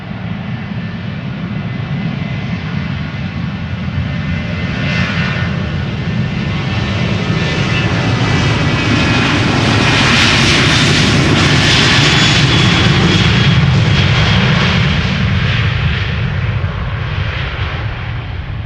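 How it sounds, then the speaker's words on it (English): A 23-year-old KLM Boeing 737-900 thunders down the runway on takeoff at Amsterdam Schiphol, a loud sustained jet roar with deep rumble that swells in intensity toward the middle and then eases slightly, no talking. "737-900 to Porto in Portugal. KLM flight 1571."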